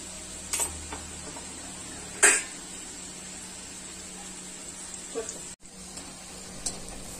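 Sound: khari puri frying in hot oil

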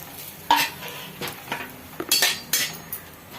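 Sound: grated coconut roasting in ghee, stirred in a pan

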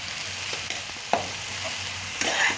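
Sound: stirring spices and sugar into tomato soup in a pan

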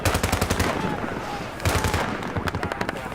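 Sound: M4 rifle gunfire in video game Battlefield 3

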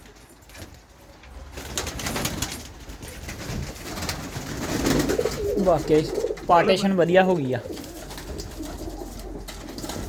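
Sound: pigeons cooing in loft

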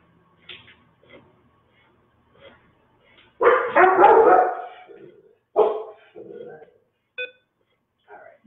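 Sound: dog barking

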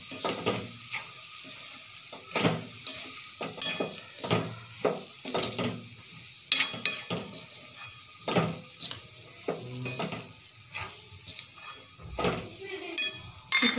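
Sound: sautéing crumbled chapati in a pan

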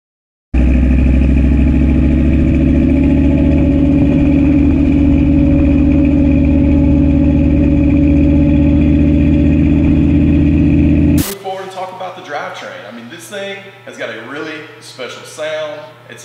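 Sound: 1968 Chevy C10 truck's 383 stroker engine running

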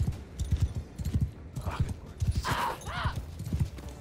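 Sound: horse hooves clip-clopping in video game Bannerlord

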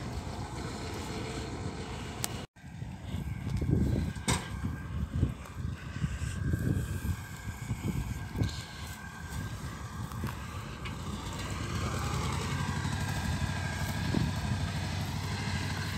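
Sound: tractor engine running while potato sacks are loaded

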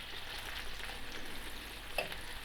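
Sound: liver frying in a pan

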